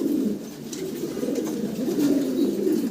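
Pigeons at a pigeon farm coo in low, rolling calls, one phrase near the start and another swelling toward the end, close and steady over a soft background hum.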